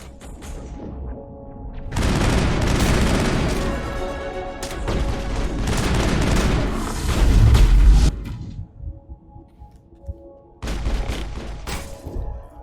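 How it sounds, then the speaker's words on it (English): A grenade thrown and detonated in the sci-fi shooter game Mass Effect, giving a loud booming blast with crashing debris, followed by a second burst of rumbling explosions and a later thud, with no talk over it. "I'll chuck a grenade out like that. And detonate it"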